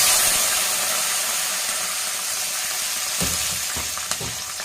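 Vadagam, curry leaves and garlic fry in hot oil for a kuzhambu, making a loud, dense, steady sizzle close by that eases slightly, with a few sharp spoon knocks near the end.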